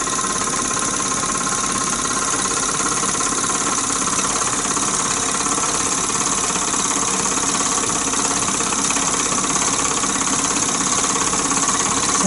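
A Mamod TE1a model steam engine, a 60th anniversary special edition, runs on compressed air with a steady, fast mechanical chuffing and rattling hum that stays constant and close, with no talking.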